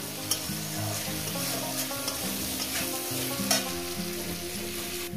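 Small mourala fish fry with turmeric in a pan, a loud, dense continuous sizzle of hot oil with occasional spatula scrapes and stirring clicks, heard close up with no voices.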